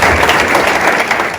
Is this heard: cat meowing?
no